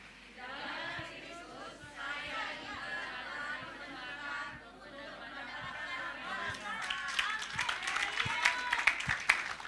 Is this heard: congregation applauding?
yes